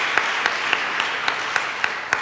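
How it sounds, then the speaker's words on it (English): An audience at a lecture event applauds in a steady, even wash of clapping, with a few sharper individual claps standing out. "I think a round of applause is in order."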